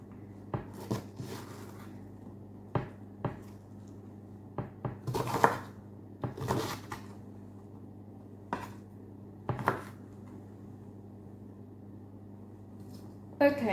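A knife cuts through red cabbage on a board in a quiet kitchen, giving sparse, irregular soft knocks and thuds with gaps between them.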